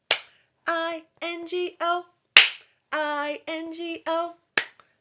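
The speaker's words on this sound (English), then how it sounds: "let's clap instead of the B" At a library preschool storytime, children clap in place of a letter while singing the Bingo song: single sharp claps fall between sung phrases, close and clear against a quiet room.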